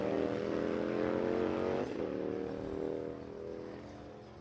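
Street bikes launch at Warwick Dragway during qualifying. A loud, sustained engine roar drops in pitch midway through and then fades slowly as the machines pull away down the strip.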